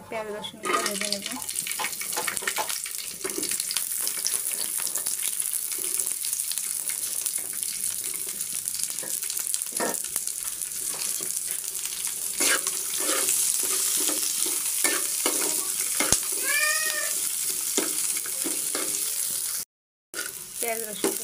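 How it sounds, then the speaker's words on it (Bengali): Onion and garlic frying in a pan for a Bangladeshi mola fish mash, a steady close sizzle with stirring and clinks throughout, plus a brief running-water sound. "এখানে পেঁয়াজ রসুনটা ভেজে নেব।"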